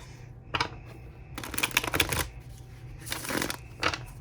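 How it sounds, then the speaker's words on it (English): Tarot cards riffled in quick shuffles, with three short bursts of rapid crisp flutter separated by brief pauses, close and clear, with no talk. "Let's do one more quick shuffle."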